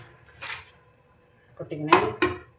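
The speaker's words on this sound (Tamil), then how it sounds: "இப்போ காஞ்ச மிளகா வறுத்தாச்சு, இதை கொட்டிக்கணும்." Roasted dried red chilies are tipped out of a pan for bitter gourd idli podi, giving a short metallic scrape and a few clattering knocks of cookware.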